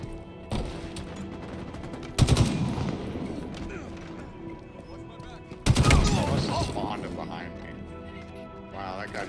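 Gunfire in the online shooter Halo Infinite, two loud bursts of shots standing out over a continuous hum of game sound and music, while a player talks over the action.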